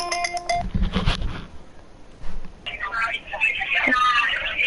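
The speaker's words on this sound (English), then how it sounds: "My phone's ringing" A mobile phone rings with a bright, repeating tonal ringtone, first in a short burst and then again more fully toward the end, while voices talk over the middle.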